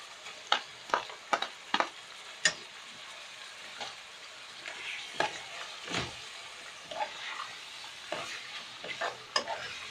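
Meat frying in a pan with tomatoes and pepper sizzles steadily, broken by repeated sharp scraping and stirring clatters, close and moderately loud, with no talking.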